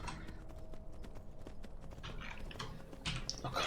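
A horse's hooves clip-clop in the Skyrim video game, a quick steady run of hoof strikes at moderate distance, quiet overall with a few sharper knocks near the end.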